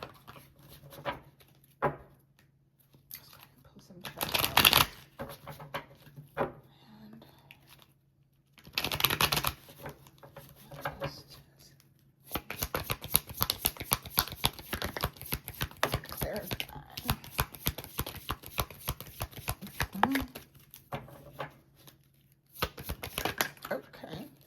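Tarot cards are shuffled in bursts of rapid, crisp riffling and flicking, with a long dense run in the middle and quieter taps and pauses between, close to the listener.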